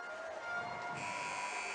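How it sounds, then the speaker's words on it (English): An ice hockey arena buzzer marks the end of the second period, a sustained harsh electronic tone sounding at moderate distance through crowd noise. "And the buzzer goes for the end of the second period."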